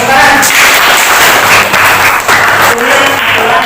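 A classroom group bursts into applause, a dense patter of hand clapping that carries on steadily for a few seconds at close range and loud level.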